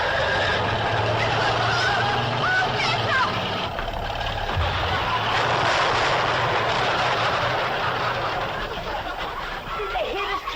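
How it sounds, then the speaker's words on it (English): An old truck roars loudly and steadily as it drives toward a cabin and chicken house, with squawking fowl mixed into the continuous engine noise. "Cousin Pearl and that overgrown son of hers is headed right for the cabin in that old truck"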